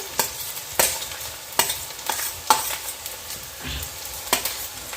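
Green chillies and capsicum fry in a pan for spicy street-style Maggi masala, a steady close sizzle broken by regular scraping stirs, with no voices.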